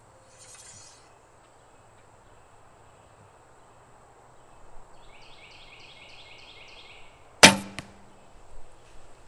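A single sharp arrow release from a barebow recurve on a Win&Win ATF-DX riser, a loud crack with a brief ringing tail, heard alone against quiet outdoor background with faint insect-like chirping beforehand.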